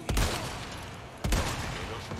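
Two sharp gunshots ring out in Resident Evil 4, about a second apart, each a loud broadband crack with a short decaying tail, heard alone without talking.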